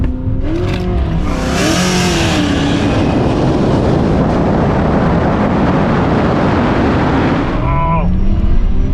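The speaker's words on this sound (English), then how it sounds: "Oh, car totally bogged out of a hole." A Tesla Model S Plaid on a drag strip launches and bogs, giving a loud, continuous electric drivetrain and wind roar that stays flat rather than building, with brief beeps near the start and end and voices talking over it.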